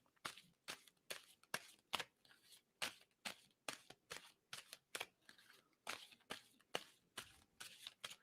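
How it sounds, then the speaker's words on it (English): Tarot cards are shuffled by hand in quick repeated riffles, a crisp rhythmic run of papery slaps and flutters, close and alone. "tell me when to stop shuffling"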